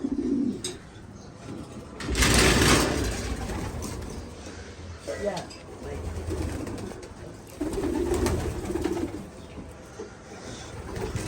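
Pet pigeons coo in low, throaty rolling calls, several bursts close by over a murmur of background noise and occasional faint chirps.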